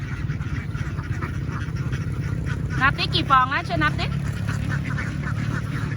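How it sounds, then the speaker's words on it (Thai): Someone talks over a busy background of quacking ducks in a duck pen during egg collecting, with a few louder, closer calls breaking through near the middle. "เสียงเป็ดร้องเห็นไหมเนี่ย"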